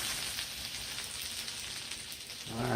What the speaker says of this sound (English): There's sizzling in the background.